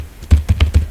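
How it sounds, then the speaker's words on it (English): Rapid keystrokes on a computer keyboard while entering an SQL query, four or five close, distinct taps in quick succession with no voice over them. "So I'm typing select static from"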